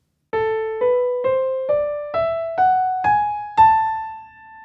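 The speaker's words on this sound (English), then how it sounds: "That's why the melodic minor scale was developed" Eight clean, evenly spaced notes climb step by step in an ascending melodic minor scale with raised sixth and seventh degrees, each struck note decaying before the next, ending on a longer ringing top note, solo without talk.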